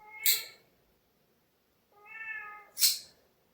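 A cat meows indoors, giving three distinct close calls: a short sharp cry, then after a pause a longer drawn-out meow that runs straight into another short sharp one, with no talk.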